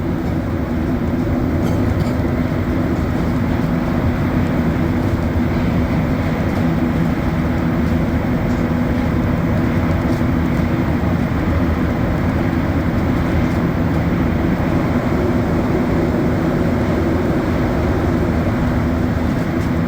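A Montreal metro train on the Orange Line, out of Côte-Vertu on the last run of the night, roars through a tunnel with a loud, continuous rumble and hiss of wheels, steady throughout with no talking.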